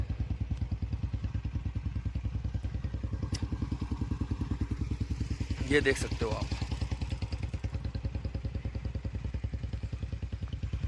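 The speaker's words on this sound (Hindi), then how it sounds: "सब लोगों ने अपनी अपनी बाइक स्टार्ट कर दी है ताकि थोड़ी गर्म हो जाए थोड़ा बहुत।" Several motorbikes idle together at an island campsite on a cold morning to warm up, a steady, close, throbbing engine chug running throughout with a brief clatter midway and a person talking over it.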